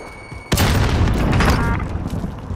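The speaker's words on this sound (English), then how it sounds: "Allied precision airstrike in." An allied precision airstrike in Call of Duty: Modern Warfare hits with a sudden loud boom, then a dense rumbling roll of overlapping blasts that slowly fades.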